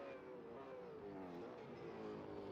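A race car in a sim-racing supercar series at Winton downshifts into a corner, its engine compression-locking. The engine tone sweeps downward in steps, heard faintly and steadily with no voices.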